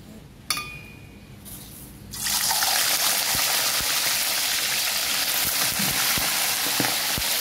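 A clink of utensils, then a loud steady sizzle as onion and chili hit hot oil and keep frying up close.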